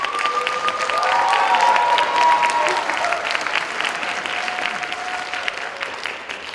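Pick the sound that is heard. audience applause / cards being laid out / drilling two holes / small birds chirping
audience applause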